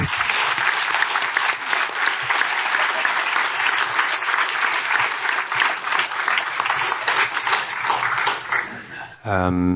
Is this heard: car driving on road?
no